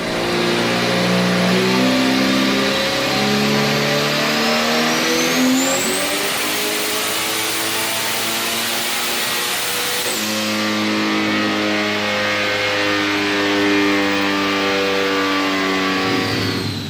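A turbocharged Sunbird's engine roars loud and close through a boosted pull, pitch climbing steadily through the revs, briefly easing mid-run, then surging again before cutting off near the end.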